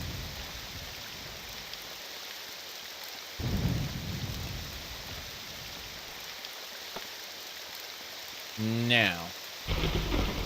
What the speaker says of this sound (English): It's still raining, unfortunately.